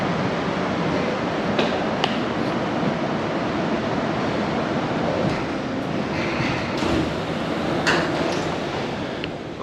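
Steady broadband rumble and rushing from inside a moving Hong Kong airport train, with a few faint clicks and knocks over the constant noise and no voices.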